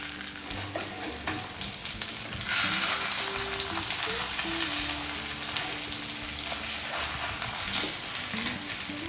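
A cod fillet for Parmesan cod fries in a pan with a continuous crackling sizzle that swells louder a few seconds in and stays steady, close and alone.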